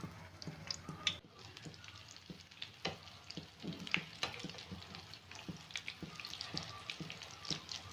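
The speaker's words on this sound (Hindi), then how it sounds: "मैं इस तरह मैं ये सारे फ्राई कर लूँगी अंडा लगा के" Egg-coated beef shami kababs frying in oil give off a steady, close sizzle with crackling pops and occasional light scraping, no talking.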